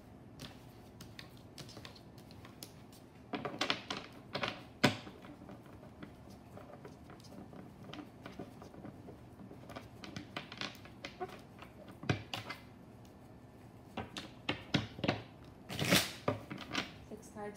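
Tarot cards shuffled during a reading, giving soft papery riffles and shuffles in irregular bursts with brief louder flurries, fairly close and unaccompanied by talk.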